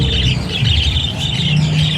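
Birds chirp in quick, repeated tweets over a low background hum, continuous and fairly close throughout the short stretch.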